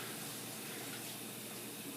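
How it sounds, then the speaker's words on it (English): Running kitchen faucet rinsing the lid of a manual food processor, a steady, soft hiss of flowing water with no talk. "The lid is not dishwasher safe, so you want to just run it underneath the faucet."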